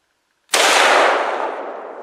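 A single loud Winchester 1895 rifle shot cracks outdoors after a moment of silence and leaves a long decaying echo.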